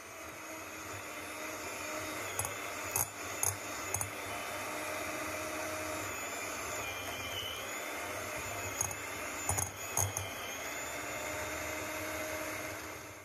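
An electric hand mixer beats butter for homemade butter cookies, a steady loud whirring drone with occasional clicks and knocks of the beaters against the bowl, no talk.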